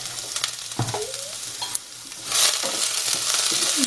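Noodle curry masala is stirred and mixed in a frying pan: a soft sizzle with scraping spatula strokes against the pan that grow louder and busier toward the end.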